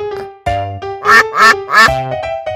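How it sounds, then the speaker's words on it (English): A duck quacks three times in quick succession, loud and close, in a children's animal names and sounds lesson, with a steady tonal background running underneath. "Duck."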